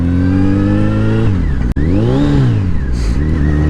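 A Honda Hornet 919 motorcycle engine revs loud and close; the pitch climbs, then cuts off abruptly on a missed shift into second, and revs rise and fall again before settling.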